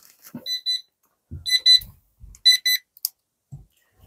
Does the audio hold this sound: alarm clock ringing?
yes